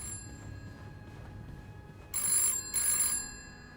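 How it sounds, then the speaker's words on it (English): A telephone rings twice in the horror video game This Bed We Made, two bright trilling bursts over a faint, quiet ambient background. "The phone is ringing."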